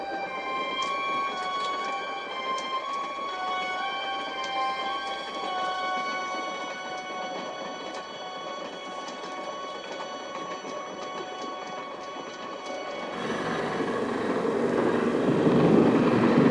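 A night train to Los Angeles rolls along the rails with a steady rumbling hum and sustained tonal whine, then the sound opens into a louder, rougher broadband roar over the last few seconds.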